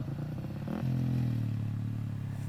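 KTM 350 motorcycle riding off-road in Colorado, its engine note climbing sharply partway through and then holding a strong, buzzy drone at moderate distance.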